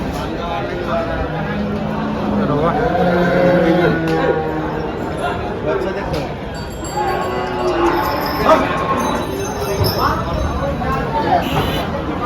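Dairy cows at a busy cattle market moo repeatedly in long, low calls while people talk and chatter all around.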